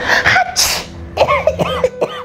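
A single sneeze bursts out loudly up close, following a brief stretch of singing-like vocal sounds and voices in a children's lesson on handwashing.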